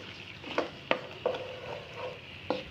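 Garlic ginger paste and green chili paste are stirred into a pan for chicken white karahi, a few soft scraping strokes of a spoon over a quiet sizzle, close and fairly faint.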